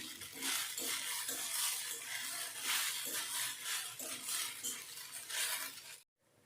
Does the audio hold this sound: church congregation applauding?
no